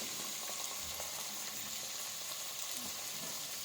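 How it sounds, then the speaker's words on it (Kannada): Tomatoes frying in a pan for bagara rice, a steady, close, even sizzle with faint crackles and no talking. "ನಾನು ಟೊಮಾಟೊ ಹಾಕಿದ್ದೀನಿ ಇವಾಗ. ನೋಡಿ ಫ್ರೈ ಆಗ್ತಾಯಿದೆ ಟೊಮಾಟೊನೂ"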